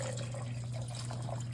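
Tap water runs steadily into a soup pot for vegetable beef soup, a continuous close splashing and trickling flow over a low steady hum, with no talking.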